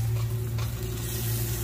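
Butter sizzles in a pot of fish pudding as it is stirred, a steady frying hiss over a low constant hum.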